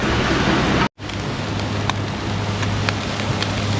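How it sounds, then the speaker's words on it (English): Rain falls steadily in an Australian backyard near a charcoal Weber grill, a broad continuous hiss with scattered sharper drops and a brief dropout near the start. "So it's raining."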